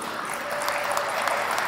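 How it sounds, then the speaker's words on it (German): An audience claps for a presenter at a pitch stage event at a trade fair, a steady, fairly soft wash of many hands clapping with sharper individual claps poking through. "Riesen Applaus bitte für den Roman."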